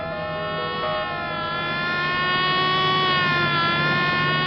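A steady siren wails on one sustained tone that slowly climbs in pitch and grows a little louder, heard alone without voices.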